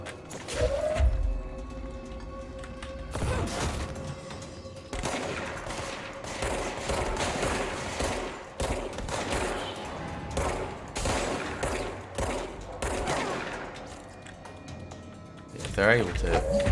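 Gunfire in the video game Control comes in bursts of rapid shots with mechanical clatter, loud and close, while a player talks over much of it.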